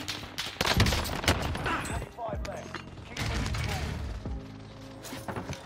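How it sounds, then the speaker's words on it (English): Pistol shots crack out in a video game as dense bursts of gunfire, loud and close, clustered at the start and again midway, under game effects and music. "I think I was being shot by a pistol."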